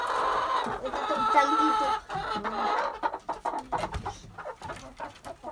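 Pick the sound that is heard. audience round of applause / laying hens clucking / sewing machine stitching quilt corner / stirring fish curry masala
laying hens clucking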